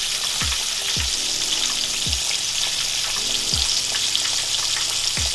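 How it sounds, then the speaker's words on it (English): Steady loud sizzling of fish frying in a pan, with soft dull knocks every second or so, like a utensil stirring, and no voices. "Oh, look at that sizzle, baby."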